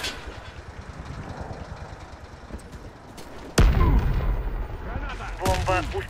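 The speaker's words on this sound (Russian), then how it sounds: "меня гранатами закидали" Grenades exploding in the online shooter Warface: a sudden, loud blast cuts in midway through scattered gunfire and action noise, followed by lingering rumble and further shots.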